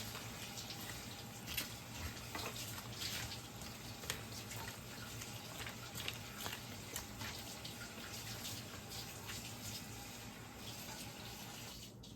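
Water pours steadily into a cooking pot for a long stretch, a constant rushing splash with a few small clinks along the way.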